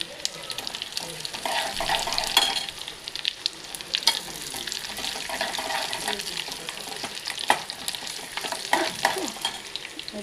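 Garlic fries in hot tempering oil with mustard seeds, cumin and chillies for pesara pappu charu, a moong dal dish. A loud, steady crackling sizzle runs throughout, broken by scraping and clinking stirring strokes, with no talk.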